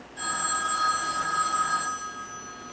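A telephone rings steadily in a home during a family birthday gathering, its bell tone loud and continuous for most of the moment, then dropping off near the end.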